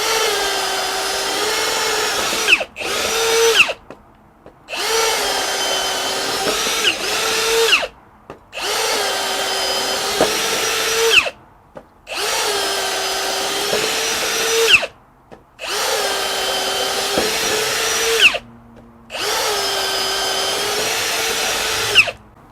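A Milwaukee M18 Hole Hawg 2807-22 cordless right-angle drill bores holes for electrical cable in loud, close bursts of several seconds each. It whines up and winds down about six times, separated by short pauses.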